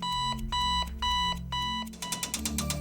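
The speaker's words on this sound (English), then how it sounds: "that annoyingly insistent blaring mosquito of an alarm we wake up to nowadays" A modern alarm clock gives four loud, insistent beep bursts at an even half-second rhythm, then shifts into a faster, busier stutter of tones, with no voices anywhere.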